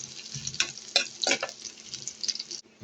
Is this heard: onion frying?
yes